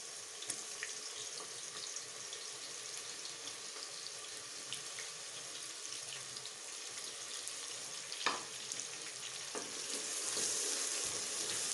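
Chopped onions frying in hot oil in a home kitchen pan, a steady close hiss with faint crackle that runs alone throughout and swells slightly louder toward the end.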